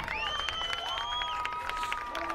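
Home crowd at a boys lacrosse game at Half Hollow Hills, heard faintly at a distance as scattered cheering and clapping with whistling shouts over a steady outdoor murmur.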